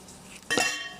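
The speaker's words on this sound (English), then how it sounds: "the ice cubes are really hard to get out sometimes" Ice cubes crack free from an ice cube tray in a single sharp clatter, close and moderately loud, fading after a brief rattle.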